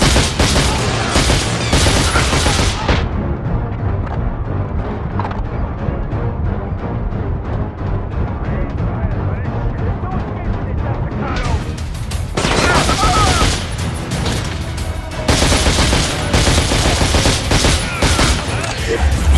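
Heavy gunfire fills a firefight in the video game The Darkness, with dense rapid bursts and booms that thin out briefly in the middle before returning at full loudness.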